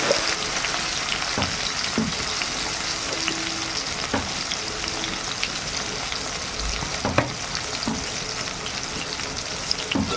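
Tomatoes fry in hot oil in a pan with a steady, close sizzle, broken by occasional stirring scrapes and clicks, alone without voices.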